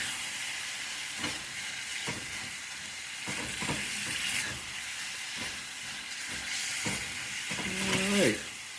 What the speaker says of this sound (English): You can see that sizzling.